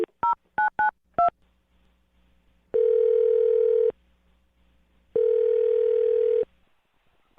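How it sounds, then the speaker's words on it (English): A telephone number is keyed in as four quick touch-tone beeps, followed by two long ringback tones separated by silence, clean and close with no voices. "I'm going to dial his phone number right now"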